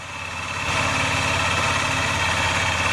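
A Honda CRF250L motorcycle engine idling nearby with a manual cam chain tensioner fitted, a steady low rumble with no cam chain noise, swelling slightly in the first moment and then holding even.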